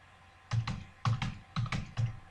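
Keys clack on a computer keyboard while entering text into a Microsoft Excel spreadsheet, in four short bursts of quick, close taps separated by brief pauses, with no talking.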